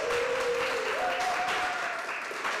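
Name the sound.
audience round of applause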